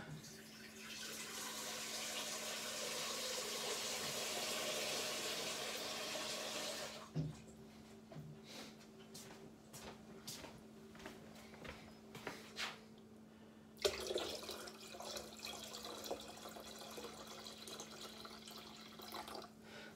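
Cold water pours steadily into a demijohn while brewing an oaked bochet mead, a continuous splashing rush for several seconds, then stopping and giving way to quiet drips and small knocks before faint pouring resumes.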